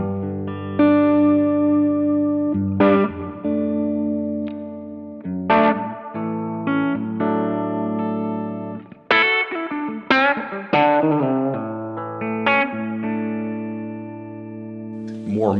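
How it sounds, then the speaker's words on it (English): Electric guitar chords and single notes played through the plate reverb setting of a Crazy Tube Circuits Sidekick Jr pedal ring out with a lush, smooth reverb tail, strummed and picked in phrases over about fifteen seconds. "I'm gonna start with the plate reverb algorithm."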